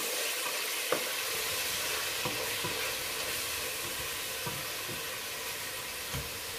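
Onion fries in a pan before chicken breast is added, a continuous close hiss and sizzle with occasional soft knocks of stirring, no speech.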